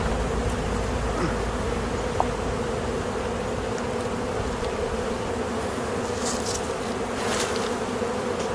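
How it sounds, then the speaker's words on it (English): A dense, continuous buzz of many honeybees swarming around a beehive, steady and close with no pauses, a few sharper individual buzzes passing near the microphone. "you see me dump the bees off the inner cover on the front"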